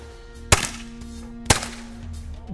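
Two sharp, loud gunshots, about a second apart, ring out during police shooting practice over a low steady background hum.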